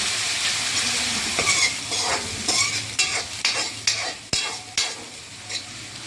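Onion, garlic, green chili and ginger paste stirred in a pan with a spoon, making repeated scraping strokes over a steady frying sizzle and hiss, fairly loud and close, with no talking.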